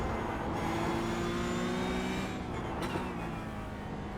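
Porsche Cup race car engine in the iRacing sim at Road Atlanta, a steady loud drone with harmonic whine that holds throughout and shifts slightly in pitch, with no talk.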